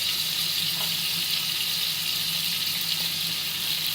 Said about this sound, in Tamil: நான் இறால் பொரிக்கிறேன்.